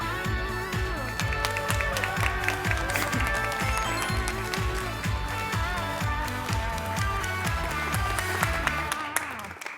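An audience claps to welcome a student author onto the stage at a youth talk show, the applause mixed with loud rhythmic stage music carrying a steady beat and bass pulses, which cuts off abruptly at the end.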